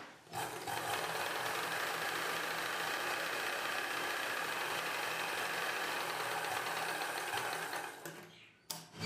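Sewing machine stitching the top edge of a blouse lining piece for a cross-cut blouse, a steady continuous motor whir running almost without pause for about eight seconds before stopping briefly near the end.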